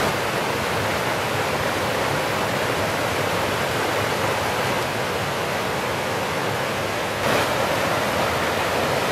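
A small creek or river flowing beside a woodland walking path, a dense continuous rush of water, loud and close, steady throughout with no talking.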